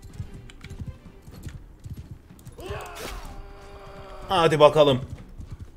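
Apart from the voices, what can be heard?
horse hooves clip-clopping in video game Mount & Blade II Bannerlord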